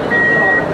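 On a Sealdah–Ranaghat AC EMU local train, a single steady electronic warning beep sounds as the doors close, over a background murmur of voices and carriage noise.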